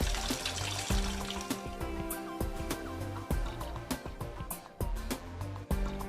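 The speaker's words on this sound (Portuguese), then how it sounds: "Os tecidos mineralizados e já bem fixados devem ser lavados em água corrente antes de iniciar a descalcificação." Mineralized tissue is rinsed under running tap water in a histology lab, a steady splashing flow with clattering drips and knocks throughout, close and fairly loud.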